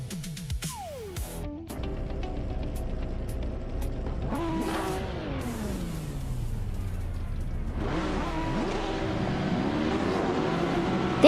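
Racing game cars launching at the start of a race at the Autodromo Miguel y Abed track, a loud, continuous engine roar with rising and falling revs as several cars accelerate and shift.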